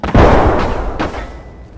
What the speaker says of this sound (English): Here's another grenade.